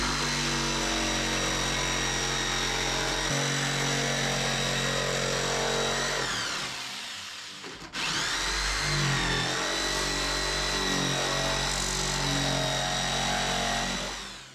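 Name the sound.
jigsaw cutting an outlet hole in wall sheathing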